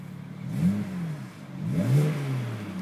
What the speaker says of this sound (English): You get that nice sound as well from the engine.